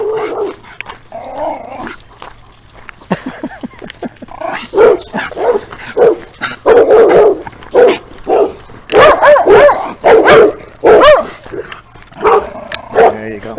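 A dog barks repeatedly in loud, close bursts with some growling between them, while a person talks intermittently nearby.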